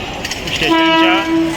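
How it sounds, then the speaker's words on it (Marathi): A Western line suburban train at Malad station in Mumbai sounds a loud, close, sustained horn over the rumble of rail traffic. "बघा आपली वेस्टर्न लाईनची ट्रेन आहे बघा मालाड स्टेशनच्या"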